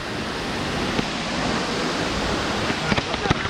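Lusno Falls pours in a steady, loud, broadband rush of falling water with no break, a few faint knocks and clicks rising near the end.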